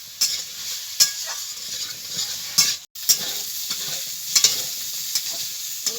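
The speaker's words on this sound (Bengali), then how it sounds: "আলুটাকে ভেজে নিচ্ছি" Steady oil sizzle from potatoes frying, close up, with a spoon scraping and stirring through the pan at irregular intervals.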